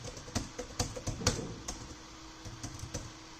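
Keys clatter on a computer keyboard as code is typed, with a for loop for a product banner area. Irregular bursts of close, crisp clicks come in quick runs with short pauses.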